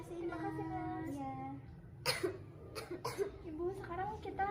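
A patient with chronic obstructive pulmonary disease coughs in a clinical setting: a few sharp, forceful coughs around the middle of the clip, with someone speaking before and after them.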